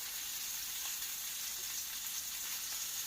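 Steady hiss of meat searing in hot oil in a pan for an Italian pot roast, a continuous even sizzle with no pauses and no voices.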